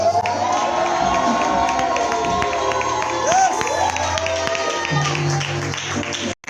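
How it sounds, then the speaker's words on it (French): A large conference crowd roars with sustained cheering, whoops and shouts of joy, loud and continuous throughout, with a few voices rising above the din. "Est-ce que quelqu'un peut pousser des cris de joie?"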